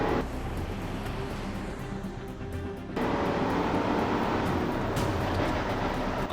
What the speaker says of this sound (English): Just straight away, let's give it a little bit of gas.